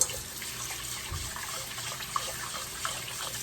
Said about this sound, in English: the water's still pretty cloudy, so we're gonna have to drain it a few more times